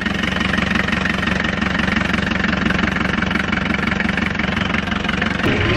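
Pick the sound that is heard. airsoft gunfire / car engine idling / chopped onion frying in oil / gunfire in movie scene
car engine idling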